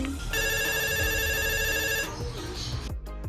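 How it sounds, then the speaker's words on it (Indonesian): A telephone rings out in a steady electronic trill as a call is placed to a friend for a cosmetics-tips podcast, loud and close, then cuts off near the end into a brief voice. "aku akan telepon salah satu temen aku untuk bergabung"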